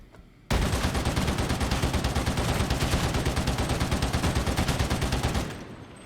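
An ogryn's heavy gun in Warhammer 40000 Darktide firing rapidly, a loud, unbroken stream of fast, evenly spaced shots for about five seconds before cutting off.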